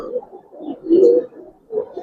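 Giribaz pigeons coo in low, throaty bursts, the loudest swell near the middle and another toward the end, close by with no talk over them.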